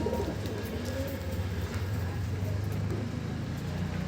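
Giribaj pigeons cooing in a loft, low throaty coos repeating in overlapping phrases, close and steady, with a faint background hum.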